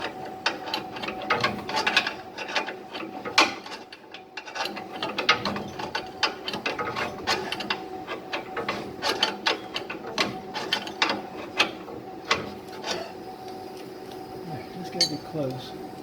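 A ratchet wrench loosens a bolt on the strut rod of a 1968 Ford Galaxie, giving rapid rhythmic clicking bursts and metallic clinks up close, with someone talking over parts of it.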